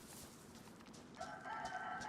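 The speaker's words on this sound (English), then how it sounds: "You hear a chicken?" A chicken in the DayZ video game, in the Chernarus map, gives a steady clucking, rooster-like call that starts partway through and continues to the end over a soft, grainy background.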